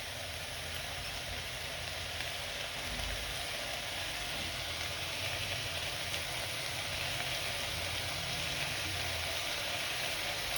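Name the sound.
spices frying in oil and ghee for tomato rice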